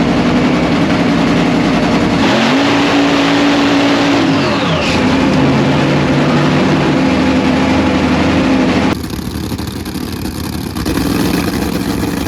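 A Nitro Funny car engine at a drag race idles with a heavy, loud rumble, then revs up and holds a high, sustained roar before cutting to a harsh, rough blast near the end, with no talking.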